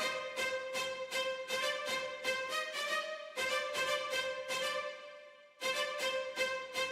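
A randomized rhythm pattern from the CTO sample library in Cubase 14 plays as a steady, bright stream of pitched percussive hits with uneven accents, pausing briefly before resuming, with no voices.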